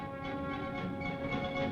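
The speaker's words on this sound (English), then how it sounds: "Picking up additional cars en route, the train arrives at its destination" A train rolls along the tracks with a steady, droning rumble and a faint metallic ring, continuous and fairly close throughout.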